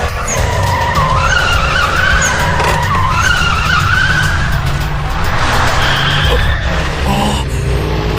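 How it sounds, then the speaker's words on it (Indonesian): A truck drifting around a corner produces a loud, sustained tire squeal with wavering screeches over a roaring engine, continuing nearly unbroken and close up. "Akan aku tunjukkan apa itu drift di tikungan."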